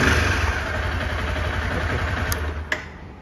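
A Honda CBR 250R motorcycle engine runs close by, a steady mid-pitched hum with a slight rise in revs early on and a brief sharp click near the end, no talk.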